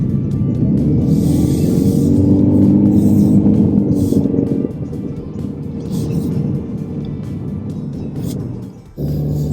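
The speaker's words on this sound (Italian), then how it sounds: "il 1800 quando si chiede di spingere un po', come in questi tratti magari in salita, fa sentire la sua voce" The 1.8 hybrid engine of a 2024 Toyota C-HR with eCVT drones steadily at high revs while climbing uphill, a loud, continuous hum and road rumble from inside the cabin that eases slightly partway through.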